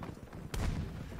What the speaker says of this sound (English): Oh no, I'm getting shot at from the right.